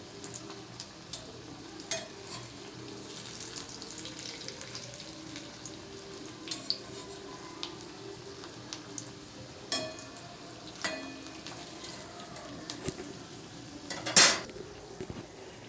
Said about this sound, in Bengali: এই বড়া কিন্তু যখন ভাজবেন গ্যাসটাকে কমিয়ে দিয়ে ভাজবেন